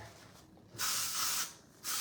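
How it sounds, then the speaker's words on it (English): AHA acid scalp spray misted onto hair from a pump bottle: two close, crisp hissing bursts, the first lasting over half a second and the second starting just before the end. "you can absolutely spray this on them and it's not gonna leave any residue"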